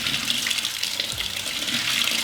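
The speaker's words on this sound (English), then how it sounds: "I'm gonna have to just spray water into my face for a second." Water runs steadily from a sink tap and is splashed onto a face, a continuous bright hiss and splatter at close range for a couple of seconds, with no talking.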